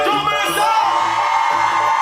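A reggae concert crowd screams and cheers loudly in a dense, sustained burst of whoops and yells, with a thumping bass line pulsing underneath.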